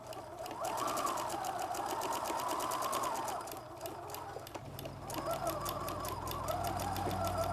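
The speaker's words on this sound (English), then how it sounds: "I'm going to sew a 1/4 inch seam down this raw edge" A sewing machine stitches a 1/4 inch seam along the raw edge of fabric for a drawstring bag, a steady close rapid chatter running throughout with a brief dip in speed midway.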